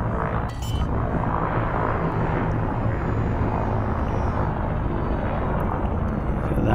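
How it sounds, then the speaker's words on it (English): A spaceship in the Elite Dangerous game lowering its landing gear over a dense, continuous engine rumble and roar, loud and steady throughout with a brief mechanical shift near the start. "Landing gear."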